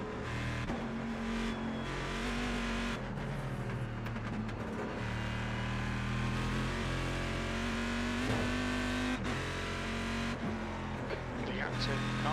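A Corvette GT1 race car in the iRacing simulator drones steadily with shifting engine pitch through gear changes, heard under ongoing talk.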